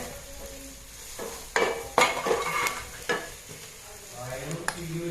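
Curry leaves and jackfruit pieces sizzle as they fry in a pan for a jackfruit stir-fry, with several sharp stirring scrapes and clatters over a steady hiss of oil, and no talking.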